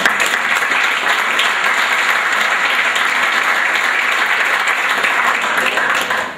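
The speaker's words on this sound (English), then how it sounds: "let's have one more round of applause for all of our senior athletes" A banquet audience applauds senior athletes at a high school senior sports banquet with dense, steady clapping that fills the room evenly and fades out at the very end.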